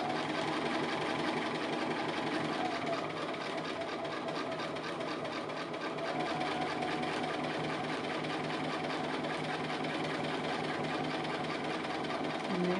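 A sewing machine stitches a thin roof onto a fabric applique house with a fast, steady whirring chatter that runs evenly and close for the whole stretch.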